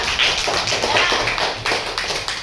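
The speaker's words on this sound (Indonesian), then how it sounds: "tepuk tangan untuk Luna" Schoolchildren in a classroom clap for a classmate, a brief burst of brisk, overlapping hand claps, close and fairly loud.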